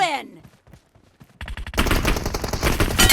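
Sparse quiet clicks and taps, then loud rapid PUBG Mobile gunfire erupts and keeps going in dense bursts through the rest.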